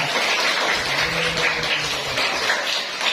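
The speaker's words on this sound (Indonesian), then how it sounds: "Tepuk tangan kelas-kelas." Schoolchildren in a classroom applauding after an assessment, a fairly soft, uneven patter of small hands clapping for about three seconds, with faint tones underneath.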